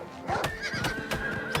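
A horse in the Oblivion video game whinnies with a loud, rising-and-falling neigh, while rhythmic hoof clip-clops sound close by.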